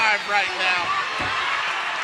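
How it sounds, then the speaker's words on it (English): Crowd noise from an arena audience at a women's MMA fight, a broad steady roar carrying through two seconds, heard beneath a commentator talking. "You can hear the crowd."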